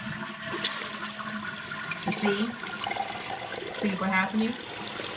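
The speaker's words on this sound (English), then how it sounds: "So I'm going to flush." A toilet flushes with a rushing gurgle of water, followed by the hiss of the tank refilling, while someone talks over it.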